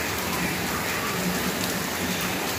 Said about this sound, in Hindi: बहुत ही ज़्यादा बारिश हो रही है, इतनी तेज़ बारिश हो रही है